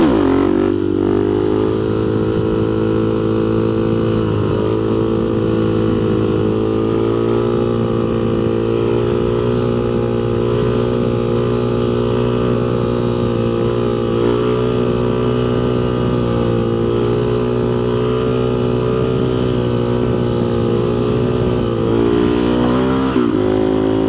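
A Banshee-engined bike revs hard and steadily while pulling up into a wheelie, a loud, close two-stroke drone with its pitch rising and falling throughout, and no voices.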